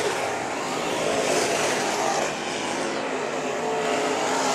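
IMCA Modified race cars roar around a dirt track during a heat race at the Budweiser Nationals, a dense, steady wall of engine noise from a pack of cars at full throttle, loud and continuous with a slight dip midway.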